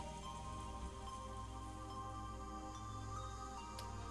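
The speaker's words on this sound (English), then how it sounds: "As we listened to the sound of the rain" Rain from the Umineko visual novel game, a steady soft patter of rainfall under a faint tonal music bed, continuous and quiet throughout with no voices.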